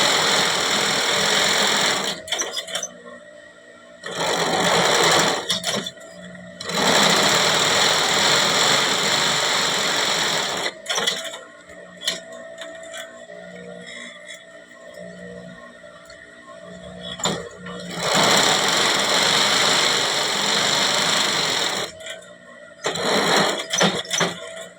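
A sewing machine stitches a small bicycle handlebar bag, running in several loud sustained bursts of a few seconds each, separated by pauses and lighter, shorter stitching runs.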